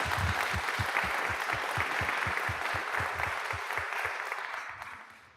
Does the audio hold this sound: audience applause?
yes